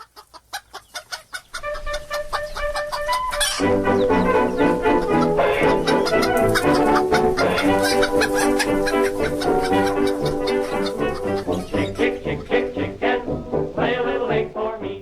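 Backyard hens cluck in a busy close chorus, overlapping rhythmic clucks and squawks building after a few seconds and continuing steadily, with a bird call near the start.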